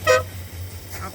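An aftermarket horn on a 1965 Chrysler 300L four-speed convertible gives one short, loud toot at the start, followed by a faint second blip over the engine idling.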